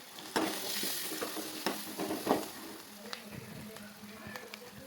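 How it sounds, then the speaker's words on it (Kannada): Masala with tomato, turmeric and garam masala fries in a pan for North Karnataka-style leftover roti uppittu: a quiet, close sizzle with a few sharp stirring scrapes and clicks. "ಕೆಂಪು ಆಗುವವರೆಗೂ ಫ್ರೈ ಮಾಡಿಕೊಂಡು"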